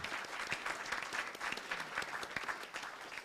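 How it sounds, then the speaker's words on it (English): Applause for school superintendents at an education summit's general session: a steady round of many hands clapping in a hall, moderately distant and with no voices over it. "Let's give a huge round of applause to our superintendents."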